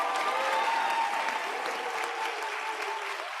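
Steady audience applause for a student painter at a university African Union model summit, a full, even wash of clapping from a crowd that holds without pause.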